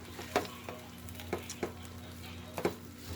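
Crispy fried rice made from crust scraped off the pot is stirred in a pan under a soft frying sizzle, with several sharp scrapes and knocks of the spatula at irregular intervals.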